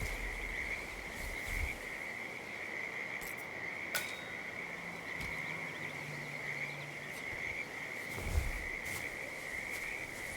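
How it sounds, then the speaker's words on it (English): A lethal poisonous frog in Hitman 2 at Whittleton Creek, Vermont, heard as a steady high trilling chirr that runs throughout against a soft ambient bed, with a few faint clicks and no talk. "It's a frog. I got a frog. A lethal poisonous frog."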